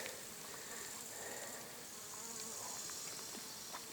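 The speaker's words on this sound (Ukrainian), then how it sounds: "бджілка гудить" A honeybee buzzes among goldenrod flowers in a forest meadow, a soft steady hum that swells and fades slightly as it moves, faint and fairly close, with no voices.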